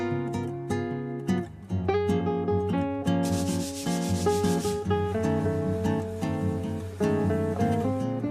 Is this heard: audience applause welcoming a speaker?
no